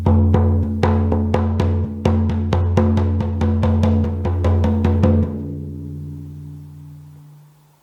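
A hand drum is struck rapidly and evenly, about fifteen close, resonant hits in a row, then the booming tone rings out and fades away on its own, played to cleanse the energy of a room at home.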